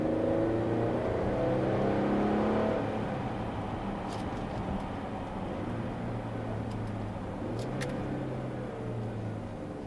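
A Mercedes-Benz GLE 350 SUV engine pulls under acceleration, a steady mid-volume drone from inside the cabin, then drops pitch as it downshifts and settles into a lower hum, with no talk.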